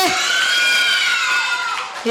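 A crowd cheers and shouts in a packed hall at a Tamil stage event, a loud, dense roar of voices close by that swells briefly and then fades at the end.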